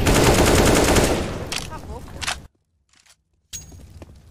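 Loud Counter-Strike gunfire in a FURIA vs BIG match, a dense burst of rapid automatic shots followed by a few scattered cracks, then a brief near-silent gap before another sharp shot.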